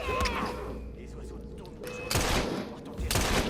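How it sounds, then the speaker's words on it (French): Pistol shots ring out in the Assassin's Creed Syndicate video game, two loud sharp bursts a second apart standing out over quieter game ambience and a player speaking. "Ce qui est chiant avec le pistolet, c'est que ça alarme tout le monde"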